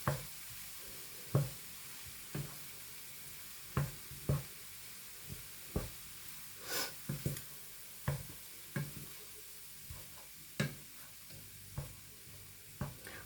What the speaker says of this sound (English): Just keep stirring this.